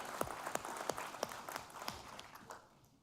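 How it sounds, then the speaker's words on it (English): Scattered audience applause at a military quarterly awards ceremony, a moderate patter of individual claps in an indoor room that thins out and fades toward the end. "Everybody give Marco a round of applause."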